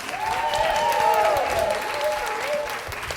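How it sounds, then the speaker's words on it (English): An audience at a Pennsylvania Black Girls Equity Agenda event applauds young people with loud, sustained clapping and cheering, while voices call out over the crowd. "Let's give our young people another round of applause."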